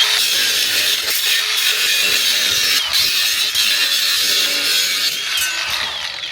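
A power saw cuts through a panel during the interior rebuild of a 4x4 Chevy Express van, a loud, steady rasping whine that runs without a break for several seconds, close by, with no talking.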